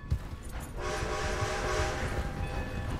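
A loud train in a video game (Red Dead Redemption 2) rumbles past close by with a sustained horn blast and clattering wheels, continuous and heavy throughout, no voices.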